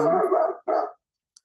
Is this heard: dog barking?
yes